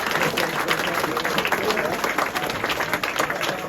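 Audience applause for the Fylde rugby players after a match at Titans, a steady, dense wash of clapping from a sizeable crowd that holds at an even level for the whole stretch, with a faint murmur of voices under it.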